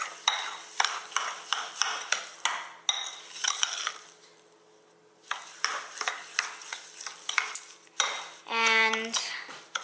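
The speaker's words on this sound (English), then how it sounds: "So I'm just gonna add a little bit, well, a lot more, and then I'm going to maybe add some coconut oil. So let's stir this in." A spoon scrapes and clinks steadily against a bowl while a sugar hand scrub with coconut oil is stirred, rhythmic gritty strokes close up, a short pause midway, then a brief ringing clink near the end.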